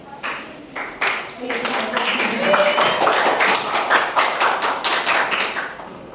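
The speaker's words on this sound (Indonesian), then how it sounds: "Berikan tepuk tangannya kepada kelompok 1 agar menjadi semangat bagi mereka" Classroom applause for a student group breaks out in a burst of rapid, dense clapping from many hands. It lasts several seconds at close range, with voices mixed in.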